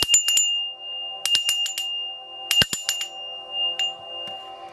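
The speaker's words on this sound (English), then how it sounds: "I'm going to ring the bell 3 times." A small bell rings out in three separate bursts of quick, bright strikes, each leaving a clear sustained tone, then a faint final tap, with no talking.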